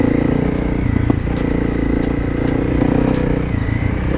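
A Honda CRF250L Rally motorcycle on the ride home, its single-cylinder engine droning steadily with a rhythmic mechanical clatter and wind, heard up close from the rider's position.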